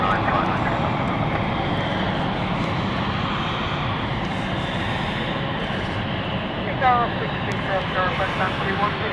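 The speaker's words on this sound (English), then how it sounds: "There it is. The A380 of Singapore Airlines." A Singapore Airlines Airbus A380 departs from London Heathrow, its jet engines a continuous distant rumbling roar with faint voices nearby and a few brief higher tones near the end.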